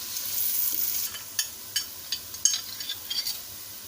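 Onions soften in a frying pan with a steady, close sizzle, broken by several sharp clinks and scrapes of a utensil stirring against the pan.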